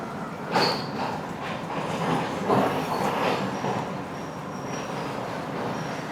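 A train rumbles steadily along with a continuous clattering roar, heard from inside the last coach, with a brief high squeal near the start, on a coastal line in Sri Lanka.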